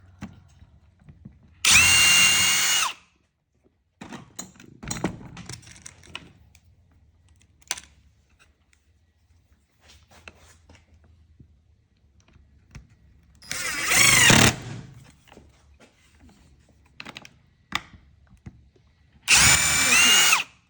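Power drill driving screws into wheels being fitted as the feet of a wooden box fan frame, three loud bursts of drilling spaced apart, with quieter workshop handling noises between them.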